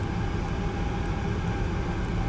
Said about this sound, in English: We'll go outside and listen to the engines outside